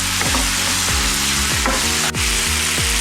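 Salted tomatoes sauté in a pan for tomato kurma, giving a dense, continuous sizzle broken by regular spatula strokes about every half second.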